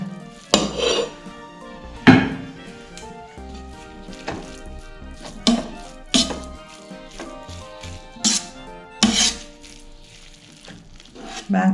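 Seasoned rice made in an electric rice cooker is mixed with sauce, giving repeated clanks and scrapes of a utensil against a pot at irregular intervals over a faint background hiss, with no voices.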